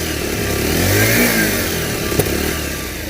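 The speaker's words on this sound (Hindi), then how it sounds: "ये रहा इसका इंजन वाला साउंड" A new 2025 Bajaj Pulsar 125 cc motorcycle engine running loud and close. One rev swells and then settles back toward a steady, rattly idle, with a brief sharp click partway through and no talking.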